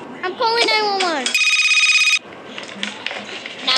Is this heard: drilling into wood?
no